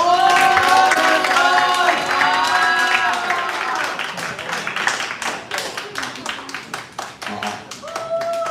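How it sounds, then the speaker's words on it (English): An audience applauds a speaker at a school speech contest, a dense burst of clapping that thins into scattered claps over several seconds, with voices talking through it. "Let's give him a big round of applause."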